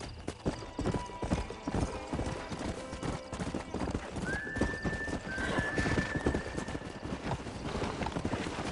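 Horse hooves clip-clop steadily in the Red Dead Redemption video game, with a stallion's long whinny rising midway, all close under game sound.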